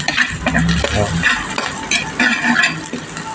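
Onion and garlic frying golden brown in a pan, a loud close sizzle broken by repeated stirring scrapes and clatter throughout.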